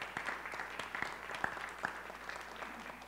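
Light, sparse applause at a census public hearing in Buffalo, a few distinct claps scattered over a quiet room, faint and close.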